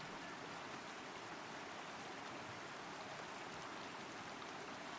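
A water stream in Rise of the Argonauts runs with a steady, soft, hissing rush and babble, constant and faint, with no other sounds.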